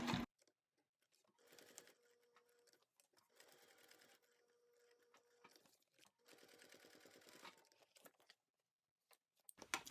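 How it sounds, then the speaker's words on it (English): A sewing machine stitches around a vinyl ID window on a key fob wallet, running in short separate bursts of rapid needle chatter with quiet pauses and a few clicks between. "I need to sew around my entire vinyl ID window"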